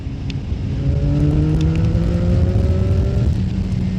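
A CF Moto 675 motorcycle accelerates under a loud, steady rumble, its engine note climbing in a few rising pitch sweeps against heavy wind noise for about four seconds.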